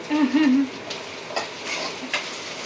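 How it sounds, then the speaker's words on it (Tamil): Ginger garlic paste frying in a pan for a goat blood recipe, a close, steady sizzle with occasional scraping stirs and a brief voice at the start. "இஞ்சி பூண்டு பேஸ்ட் போட்டு வதக்கிட்டு இப்போது நம்ம ரத்தம் பிணைஞ்சி வச்சுருக்கோம்ல, அதை அப்படியே வந்து ஊற்றிடுவோம்"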